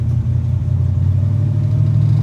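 A Chevy C10 engine on a stock transmission running at a steady, deep rumbling idle, loud and close, with the tires struggling to grip.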